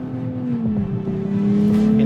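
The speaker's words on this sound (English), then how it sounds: "In those high revs, the engine really makes a great noise." A 2023 Nissan Z on a racetrack, its engine held at high revs in a loud, steady, close drone that climbs slightly in pitch.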